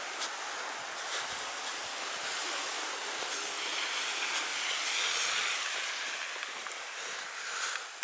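Strong wind roars steadily down a snowy city street, a broad, continuous rushing with gusty swells and no voices.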